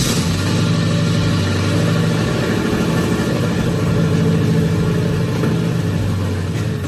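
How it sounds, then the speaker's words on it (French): A car engine fitted with new silencers runs steadily at idle, a loud continuous rumble with slight swells, close by and with no voices. "Je dirais que maintenant, ça sonne vraiment comme une voiture de course."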